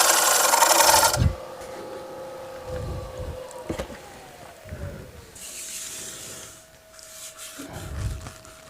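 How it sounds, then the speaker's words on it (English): A hand tool shaves a thin piece of wood, with several close rasping strokes at an uneven pace, the first one long and loud and the later ones softer, over a steady faint background tone. "We're going to try to shave a little off."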